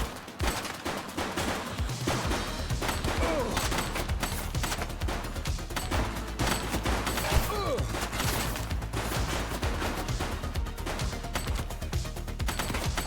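Sustained gunfire in the police game The Precinct, a dense run of rapid shots that carries steadily from start to end against music and game sounds, with no talk.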